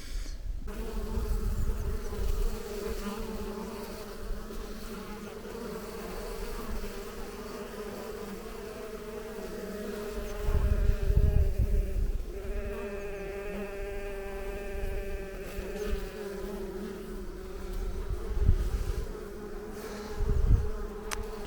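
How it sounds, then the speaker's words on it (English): Bees buzzing around lavender on a farmhouse porch, some arriving with full pollen sacks; a steady, close droning hum swells and fades as individual insects fly past, with no talking. "Just wanted to show you these bees."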